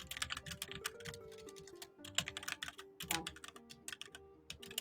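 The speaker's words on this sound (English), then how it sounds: "Who's typing?" Rapid, uneven clatter of keys typing on a computer keyboard during an online voice session, continuous and fairly close, with soft background hum and no talking.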